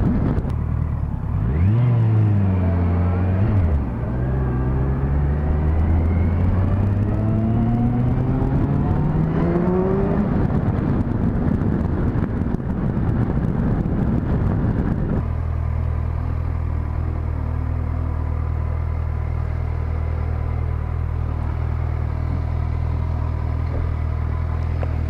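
Motorcycles, a Suzuki V-Strom, Kawasaki Vulcan S and Kawasaki Versys, ride past on a test ride, engines revving and rising in pitch as they accelerate, then settle into a steady loud rumble without talk.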